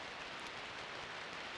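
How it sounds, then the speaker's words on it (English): Heavy rain splatting steadily against a folding, segmented steel garage door in the game DreamWeb, a dense, even hiss of drops close by with no voices. "Splats of heavy rain pelt the door with a hollow sound."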